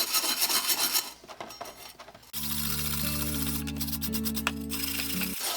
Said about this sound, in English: by using the brass wire brush, which is softer than the steel blade, I'm not damaging the teeth at all